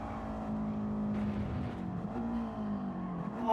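A race car engine from the driving game Gran Turismo 7 drones steadily with shifting pitch as the car drifts through corners, a continuous motor sound that swells loudly at the end.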